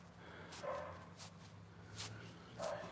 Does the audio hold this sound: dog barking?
yes